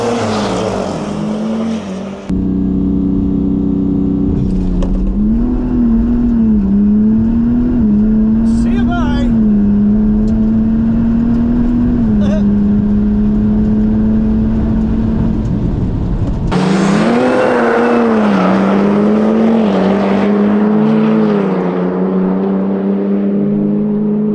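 BMW 435d diesel car launching in a drag race, a loud close engine roar rising steadily in pitch through the gears for about fifteen seconds, then a renewed surge after a brief shift, under ongoing crowd talk and chatter.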